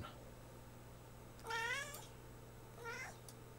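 Two separate cat meows, a longer one and then a shorter one a moment later, rising over a quiet steady hum with no voices.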